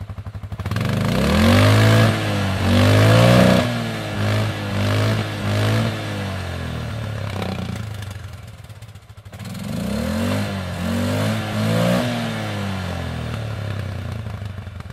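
A small ATV engine fitted with a Kolpin Stealth Exhaust idles and revs in uneven bursts, its exhaust a low, muffled rumble rather than a loud roar, settling back to a steady idle.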